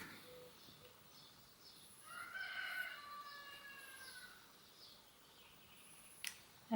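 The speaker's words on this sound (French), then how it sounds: "Avec le coq qui chante." A rooster crows once at a distance, a drawn-out cock-a-doodle-doo rising over quiet outdoor background noise, followed by a soft click.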